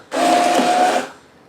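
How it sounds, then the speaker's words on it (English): An Aicock immersion blender whirs through squash, carrot and onion soup in a pitcher, one loud, close burst of about a second with a steady motor whine before it cuts off. "I'm just going to use the Aicock Immersion Blender to blend this into a nice creamy soup"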